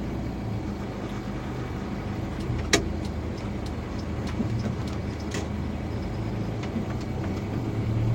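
Steady low engine rumble from a manual car moving off in first gear after the handbrake is released, on a winding mountain road, continuous and close with a brief click and faint rattles.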